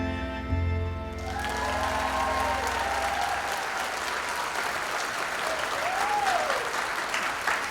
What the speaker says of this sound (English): And the crowd went wild